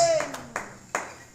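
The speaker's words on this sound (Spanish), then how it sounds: "Dale fuerte palmas, iglesia." In a church worship service, a few sharp hand claps ring out at an uneven pace, three distinct loud strikes following a fading sung or keyboard tone, with faint voices in the background.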